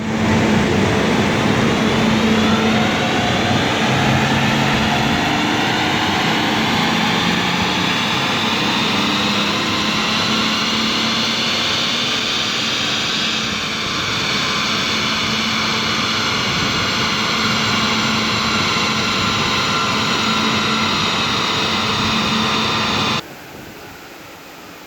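Tuned BMW 435d diesel engine with bolt-on mods running on a dyno, a loud steady drone rising smoothly in pitch through a long pull before cutting off abruptly near the end.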